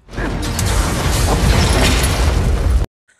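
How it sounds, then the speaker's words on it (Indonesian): A loud, sustained explosion from an action film about a terrorist attack on London, a dense roaring blast with crashing debris lasting nearly three seconds before cutting abruptly to silence. "Ketika ingin membunuh Kamran, Sultan yang sekarat berhasil meledakkan tempat tersebut"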